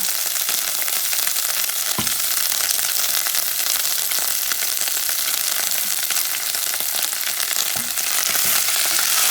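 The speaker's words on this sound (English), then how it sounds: "I'm going to add some of the patitas now" Beef feet (patitas) frying in sofrito, a loud, dense, continuous sizzle close by, with a couple of faint clicks and knocks of a utensil against the pot.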